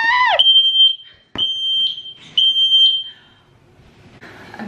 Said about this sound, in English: It's a fire alarm.